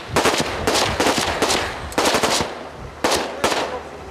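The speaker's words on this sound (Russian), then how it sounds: "Отрабатывают стрельбу специальными патронами." Bursts of machine gun fire from night shooting practice with special rounds, several rapid rattling volleys separated by short pauses, fairly distant and steady, with no voices.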